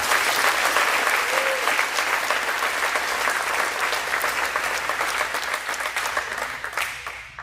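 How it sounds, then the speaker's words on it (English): A round of applause fills the room at an annual athletics banquet, a sustained wash of many hands clapping that holds steady and gradually thins toward the end, with no speech on top. "But we love you, Seth, and let's give Seth a round of applause."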